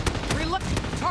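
Rapid automatic gunfire in the PUBG Mobile video game, a quick run of sharp, loud shots with a voice speaking underneath.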